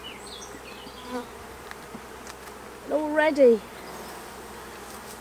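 A newly caught honeybee swarm hums steadily around a hive frame, a low continuous buzz close by, with someone briefly speaking over it.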